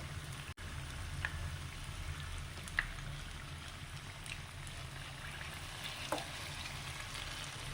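Banana fritters (pazhampori) frying in hot oil: a steady, soft sizzle with a few faint clicks as the pieces are flipped, quiet and close, with no talking.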